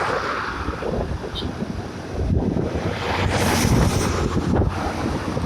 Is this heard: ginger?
no